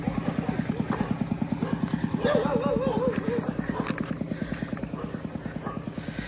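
The engine of an odd-looking farm tractor in rural Isaan, Thailand chugs close by in a fast, even rhythm of pulses. A voice is briefly heard over it.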